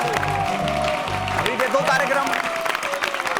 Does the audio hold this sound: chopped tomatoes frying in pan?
no